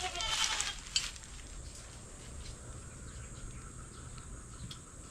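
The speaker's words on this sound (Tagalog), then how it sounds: "Tali po natin yung mga kambing." Goats bleat on a farm: a loud bleat near the start, then quieter outdoor ambience with faint calls and rustling.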